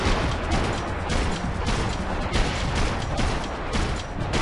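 Dense gunfire from the video game Max Payne 3, a loud continuous barrage of overlapping shots and bursts with no clear gaps, close and harsh throughout.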